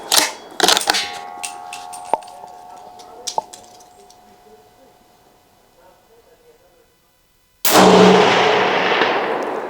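A .300 Blackout round fired from a Ruger American Ranch rifle strikes a steel target, giving sharp metallic clangs that ring on and fade. A loud, broad blast bursts in near the end.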